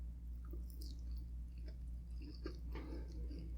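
Quiet chewing of crispy pata, deep-fried pork knuckle dipped in spicy vinegar, with soft crunches and moist bites close up over a steady low hum.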